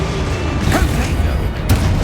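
A Confringo explosive spell goes off in Hogwarts Legacy, with two short booming bursts rising over a noisy, rumbling game-combat background.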